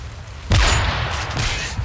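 A sudden loud gunshot-like blast bursts out after a quiet moment, followed by a sustained rumbling, crackling tail of game gunfire.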